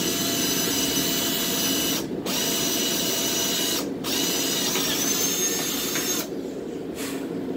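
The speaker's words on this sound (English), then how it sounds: "so we got our hole drilled" A power drill bores a hole through metal, whining steadily and close for several seconds, with three brief pauses where the motor cuts out before resuming.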